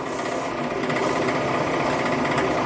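Aluminum mounting pucks being cut on a machine with WD-40 as lubricant give a steady, continuous rasping hiss that runs unbroken and fairly loud throughout.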